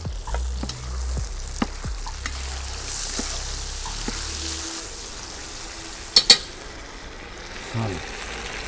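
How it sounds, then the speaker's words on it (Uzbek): Tomatoes sizzling in an oil pan in a home kitchen, with a steady frying hiss and a few brief stirring clicks and knocks, close and fairly quiet. "Keling, mana bunday qovuramiz."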